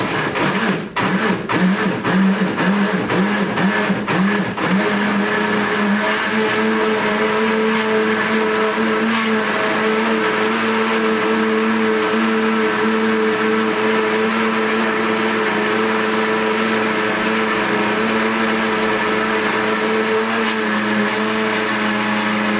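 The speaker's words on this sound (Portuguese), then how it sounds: "E a gente vai bater no liquidificador." A blender whirs loudly and steadily, blending plant leaves with water, starting with a few uneven pulses before settling into a constant high-pitched motor drone.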